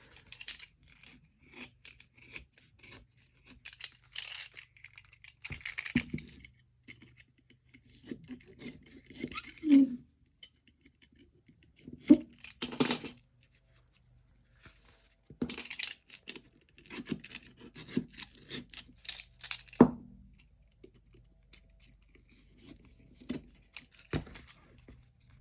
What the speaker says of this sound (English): I'm just going to cut off that excess